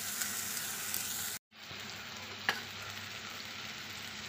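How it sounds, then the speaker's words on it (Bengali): Spice masala cooking down with sour yogurt and a pinch of sugar in a pan: a soft continuous frying hiss with occasional stirring scrapes, briefly cut by a short gap, then resuming with one clearer spoon knock. "ভালো করে মশলাটা এই দইয়ের সঙ্গে কষিয়ে নেব।"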